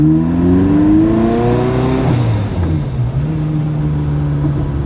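A Ferrari F40 turbocharged engine revs up and its pitch climbs, then drops back and settles into a steady, rumbling idle close by.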